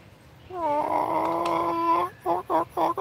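Rooster and chickens in a backyard coop, one long harmonic crowing call lasting over a second followed by three short clucking bursts, close and fairly loud.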